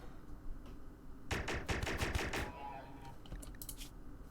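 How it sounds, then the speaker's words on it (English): Beam weapons fire in RimWorld as a rapid burst of about eight sharp zapping shots in quick succession, followed after a pause by a few fainter scattered shots. "the beam weapons go straight through them"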